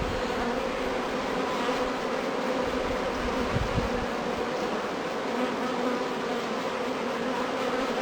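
Honeybees fanning at the hive entrance during a spring transfer from a nuc, a continuous close buzzing drone that holds steady throughout.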